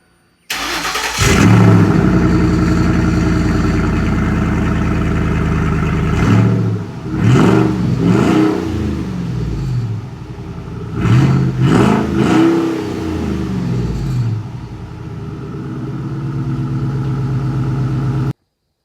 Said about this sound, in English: You got to start your truck up without a muffler after you take it off, or car, or whatever.